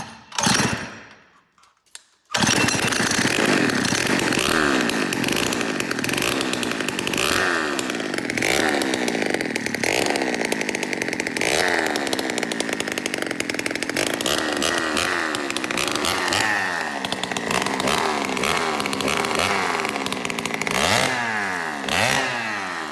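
A Peugeot 103 moped fitted with a full Malossi 70cc kit starts after a short quiet moment, then screams loudly and continuously with raspy two-stroke revving that rises and falls repeatedly, running close and alone.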